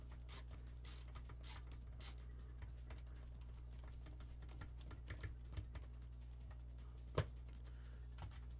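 Screws spin in place under a screwdriver bit while an arcade power supply is assembled, making soft rapid ratcheting clicks with a low hum beneath and one sharper click near the end.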